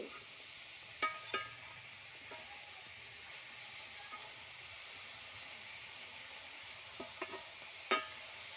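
Spinach cooks in a pan with a faint, steady hiss, broken by a few sharp clinks and taps of a utensil against the pan.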